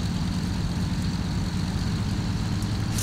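Brewster Buffalo fighter in the X-Plane flight simulator with its landing gear being lowered, a steady loud low propeller-engine drone running throughout with no distinct mechanical clunk standing out above it.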